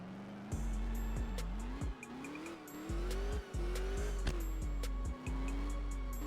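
A Corvette C7 Z06 engine runs loud and close, its pitch climbing and dipping through several revs, broken by brief sharp cuts between pulls.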